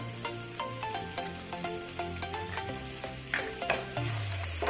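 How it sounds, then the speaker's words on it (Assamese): Flour is stirred into melted butter in a pan over low heat, a soft scraping stir repeating in a steady rhythm over a light sizzle, close and fairly quiet. "ভালকৈ মিলাই ল'ব এইটো ময়দাটো।"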